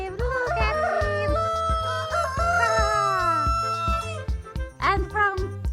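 A rooster crows once at close range, a long rising and falling call, set among other farmyard clucks and animal calls in a children's farm cartoon.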